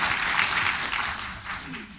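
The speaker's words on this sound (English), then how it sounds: "A round of applause for Justice Rein." Audience at a legal panel on truth-finding and victim compensation applauds a justice, a short burst of dense clapping that thins out over two seconds, with a faint voice starting near the end.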